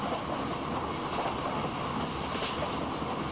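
A Vivek Express train on Indian Railways in the Open Rails train simulator rolls along steadily, with a continuous loud rumble of wheels and carriages and faint clickety-clack on the rails, no voices.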